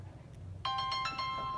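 A phone ringtone starts up with a bright, repeating electronic melody of clear tones, moderately loud against a low background hum, with no talking over it.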